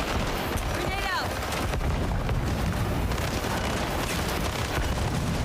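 A grenade blast in the video game Highguard, a dense booming burst with rumbling low end amid continuous gunfire and battle noise, with a player talking over it.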